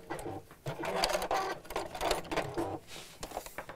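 A domestic sewing machine runs in quick bursts, putting a few stitches through fabric to hold a folded hair bungee in place, its rapid mechanical whir close and steady with short pauses.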